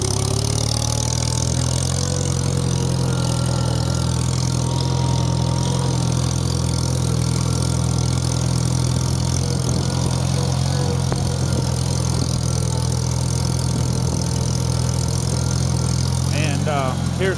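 A 1973 IH Farmall 140 tractor engine runs in gear, a loud, steady, smooth mid-pitched drone that holds throughout with little change, alongside faint talk.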